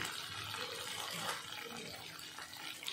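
Kashmiri chilli hits hot oil for a crab and potato curry, setting off a soft, continuous hissing sizzle that stays fairly faint and even, with no voices over it.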